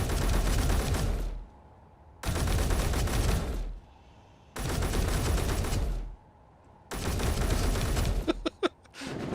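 Rifle gunfire from grinder bots in the video game Space Engineers, loud sustained bursts of rapid fire in four long volleys separated by short pauses, with a few sharp single shots at the end.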